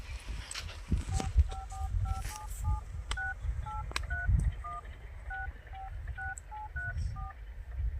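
Telephone keypad tones beep in a quick series of short, evenly spaced dual-tone presses, clear and close, over low background rumble and faint movement, with no talking.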